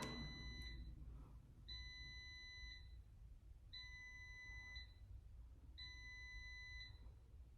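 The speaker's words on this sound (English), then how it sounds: "that's the air fryer" An air fryer beeping indoors, four evenly spaced long electronic tones, each about a second, moderately loud over a steady low background hum, no talking.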